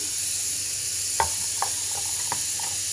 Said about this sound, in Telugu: ఇప్పుడు తాలింపు పెట్టేసుకుందాం.